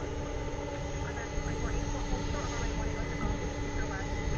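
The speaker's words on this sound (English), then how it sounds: "We got an MD-11 departure going to Philadelphia" An MD-11 jet departs from DFW airport bound for Philadelphia, a sustained jet roar with a high engine whine holding steady at a distance, moderately loud and unbroken.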